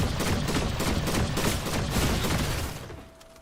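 Rapid, dense bursts of gunfire from an overpowered weapon in the video game Fortnite, loud and continuous for about three seconds before trailing off quickly.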